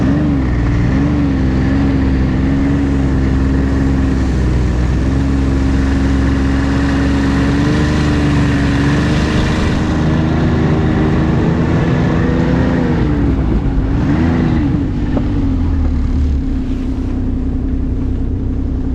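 A vehicle's engine drones steadily as it drives through snow toward a fallen log near a remote cabin, and the pitch rises and wavers briefly near the end as it works harder.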